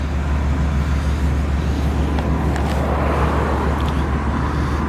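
A 1991 Cadillac Fleetwood Brougham with a sunroof, running and driving, gives a steady, even road and engine drone throughout, with no voices.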